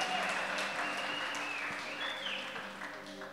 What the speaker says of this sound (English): We may clap our hands and celebrate.